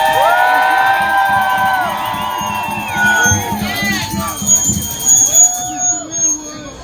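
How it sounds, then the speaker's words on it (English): A crowd at an outdoor rally in New York City cheers and whoops at a distance, with scattered shouts rising and falling over a musical tone. "give a big round of applause"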